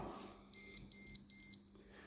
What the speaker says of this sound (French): Le digicode émet 3 bips